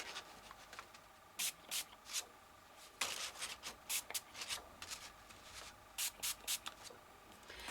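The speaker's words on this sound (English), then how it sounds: "Just put it there randomly and give it a spray." Spray bottle misted onto a Halloween mixed media art page, heard as a series of short, close, hissing bursts in quick clusters, alone without any talk.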